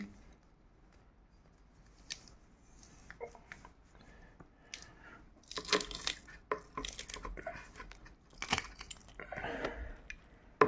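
Two large garlic cloves are squeezed through a garlic press. Close, quiet crunches and clicks come in irregular bursts that grow busier toward the end.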